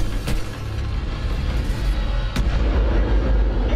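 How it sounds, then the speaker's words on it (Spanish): Gunfire in the video game Titanfall 2: heavy booming shots over a low rumbling battle background, a couple of distinct sharp cracks standing out, loud and close. "¿Quién que me disparó eso?"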